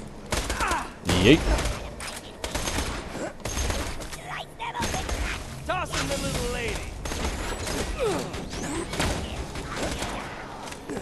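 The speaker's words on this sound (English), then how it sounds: "Try my new grenade." Grenade blasts and gunfire in the Borderlands 2 video game, a dense run of thuds, bursts and shattering under a player's voice, one shouted word included.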